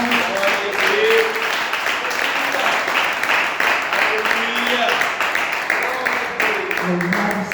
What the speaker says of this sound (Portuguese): pode exaltar ao Senhor com as palmas